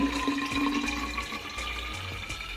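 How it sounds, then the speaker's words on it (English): Tap water runs into a Brita filter pitcher as it fills, a close, steady stream with a rising resonant tone, heard alone without voices. "I'm filling up my water now. I'm using a Brita."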